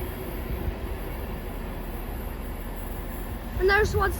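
A train pulls away from Haymarket station, heard as a steady rumbling roar along the platform that swells near the end, with a voice speaking briefly over it.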